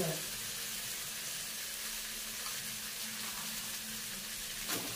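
Spinach frying in a pan gives a steady, close sizzle that runs unbroken, with a brief stirring scrape near the end and no talk over it.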